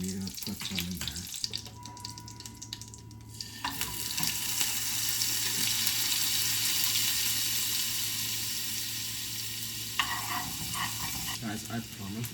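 Minced garlic sizzles and fries in a pan while ramen is cooked, a steady hissing crackle that swells and holds, with some clattering of the pan and quiet speech at the start and end.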